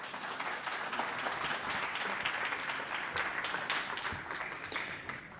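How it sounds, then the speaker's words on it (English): Steady, dense applause from a conference audience for the panelists at a forum session, sustained and even across the whole stretch with no voices breaking through. "I invite you to award them with a big round of applause"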